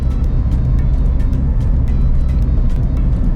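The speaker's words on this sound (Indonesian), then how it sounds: "mobil akan meluncur ketika saya menekan pedal kopling" A car rolls downhill with the clutch pedal held down, giving a steady low road and tyre rumble with faint interior noise, continuous and fairly loud throughout.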